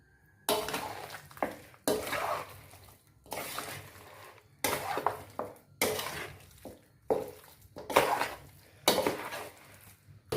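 Chicken with curry leaves is stirred in a cooking pot for chicken perattu, giving repeated scraping and clattering bursts of spoon against metal at a steady rhythm, close and fairly loud.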